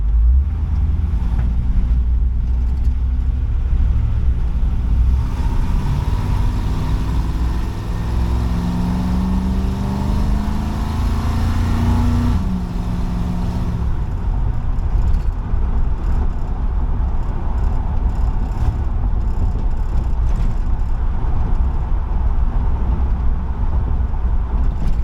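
A carbureted engine fitted with an Edelbrock Performer carburetor revs up under heavier throttle. It holds a loud, steady rumble throughout, with a rising then falling rev sweep in the middle, heard up close with some wind noise.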